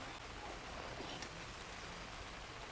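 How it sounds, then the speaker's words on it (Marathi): Heavy rain falls outdoors as a steady, even hiss of downpour, moderately loud and unbroken, with no voices. "भरपूर पाऊस सुरू झालाय आता"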